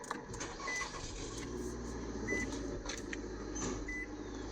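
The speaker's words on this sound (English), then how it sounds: "car starts" A push-button car starting, a faint low engine rumble settling into a steady idle inside the cabin, with soft clicks and short electronic beeps over it.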